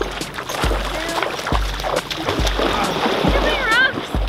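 Water splashing and sloshing as people swim in cold water at sunset, with a steady wash of splashes and rhythmic low thumps, fairly loud and close.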